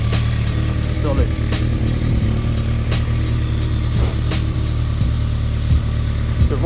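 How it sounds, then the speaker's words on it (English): Kawasaki Ninja ZX6R motorcycle not yet fully warmed up, idling steadily and loud up close with an even low rumble, with sharp clicks and taps breaking through now and then. "The rider was so short, the bike didn't even warm up properly, but I'm gonna let it run for a little bit."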